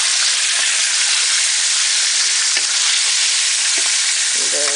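Battered fish frying in grease hisses and crackles in a loud, steady sizzle right up close, with faint scraping as the pieces are turned over.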